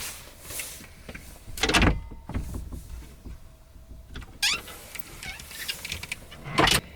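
An RV cabinet door slides shut after a lever is pushed, giving a few short sliding rattles and clunks spaced apart, with a sharp thump near the end.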